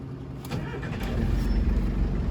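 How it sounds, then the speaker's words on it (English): 1979 Morgan 41 Out Island sailboat engine cranking briefly and catching, then settling into a steady, close, low idle rumble. "We're just gonna make a quick start, and you'll see how easy this thing starts."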